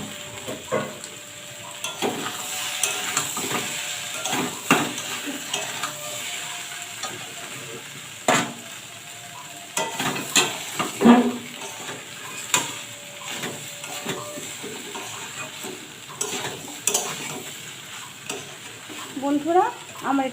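A vegetarian Bengali curry for Laxmi puja is stirred and sautéed in a pan, with a steady sizzle under repeated scraping strokes of the spoon against the metal, close and fairly loud throughout.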